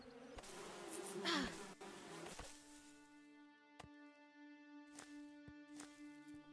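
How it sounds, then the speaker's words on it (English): Bees buzz in the game Above Snakes, a close droning hum that swells early and keeps going under scattered sharp clicks and a steady tonal game sound, no speech. "So this is our second set of bees."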